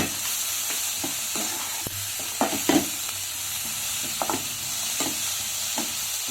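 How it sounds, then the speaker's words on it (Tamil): Chopped onion for green peas masala sundal sautés in a pan, a steady close sizzle with a few utensil scrapes and taps as it is stirred. "சும்மா ஒரு பாதி இது வெங்காயம் வதங்கினா போதும், ப்ரௌனாக ஆகிடக்கூடாது"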